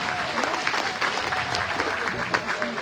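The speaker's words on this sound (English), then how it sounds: "Let's give our junior showmanship exhibitors a round of applause." Audience applause at a county junior livestock show, a crowd clapping in a scattered, lively patter, with some voices mixed in.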